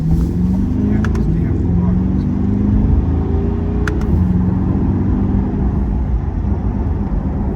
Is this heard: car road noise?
yes